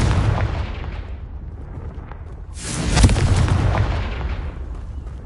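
A Confringo fire spell blast in Hogwarts Legacy: loud, roaring bursts, with a sustained rumble that swells into a bigger explosive flare midway and then slowly fades.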